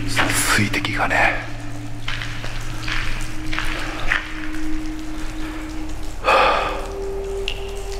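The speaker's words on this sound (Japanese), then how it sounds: "水滴がね、" Water drips in the abandoned old Fukiage road tunnel, scattered drops landing irregularly over a steady low hum and hiss, while someone talks intermittently nearby.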